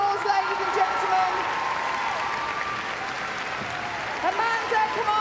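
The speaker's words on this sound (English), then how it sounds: "Give her a big round of applause, ladies and gentlemen." Spectators applauding a dog agility run at Crufts, a steady broad wave of clapping and crowd noise, with voices cutting through now and then.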